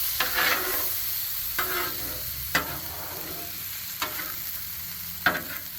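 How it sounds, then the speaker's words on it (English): Food searing in oil on a Blackstone griddle, with a steady hiss and five evenly spaced sharp spatula scrapes against the flat top, close and clear. "I want to try to get these a little bit seared, but not too much seared"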